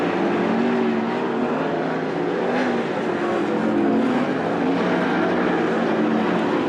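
World of Outlaws sprint cars race through a heat at Attica Raceway Park in Ohio, engines roaring steadily and loudly throughout as several cars circle the track together with continuous revving.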